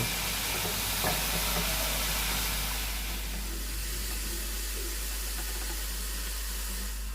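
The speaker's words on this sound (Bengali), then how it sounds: "এবার সব মিশিয়ে খুব ভালো করে ভেজে নেব।" Stale cooked rice and vegetables seasoned with salt and turmeric frying in a pan, a continuous dense sizzle and hiss close by, fairly steady throughout with a faint low hum underneath and no voices.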